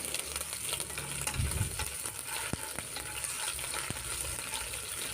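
Crushed ginger and garlic fry in hot oil in a pan, a steady close sizzle with a few sharp crackles and light stirring scrapes.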